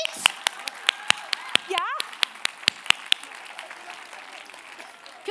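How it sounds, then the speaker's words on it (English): A church congregation claps through a sermon in sharp, loud, evenly spaced claps that thin out after a few seconds, with a brief spoken word partway through. "Let's just clap."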